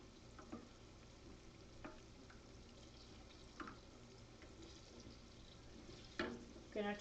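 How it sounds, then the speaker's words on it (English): A spoon stirs two cups of heavy whipping cream in a pot on the stove, making faint scrapes and a few soft clinks against a steady kitchen hiss, with a louder clatter near the end. "Gonna give it a stir."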